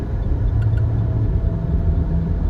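Car driving on a highway, a steady low engine and road rumble heard from inside the cabin, continuous and even.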